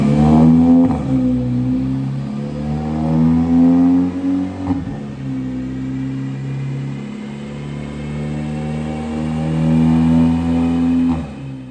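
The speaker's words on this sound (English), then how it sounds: "I've put my car on a treadmill, a car treadmill, which is a dyno." A VW Polo GTI engine revs on a car dyno, with a loud, steady, close exhaust drone that rises and falls in pitch across several sustained pulls.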